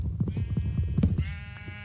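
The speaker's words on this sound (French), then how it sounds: "on va commencer donc par tuer des moutons" Sheep in the Minecraft video game bleat in a quick run of short, loud, close calls, the last bleat drawn out and wavering before it fades.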